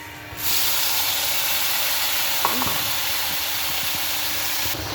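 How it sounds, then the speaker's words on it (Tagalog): Tomatoes dropped into oil left from frying fish, a loud sudden sizzle that surges up and holds as a dense steady hiss, with a few soft stirring knocks, close and alone. "So, ilalagay na natin yung kamatis."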